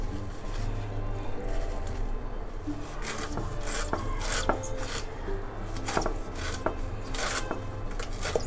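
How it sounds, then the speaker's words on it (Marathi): A knife finely chopping colocasia (taro) leaves on a board, a steady run of quick, close chops with light rubbing and scraping between strokes, growing crisper toward the end. "या पद्धतीने आपण हे अळू बारीक चिरून घ्यायचं"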